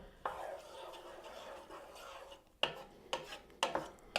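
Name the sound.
stirring sofrito in a pot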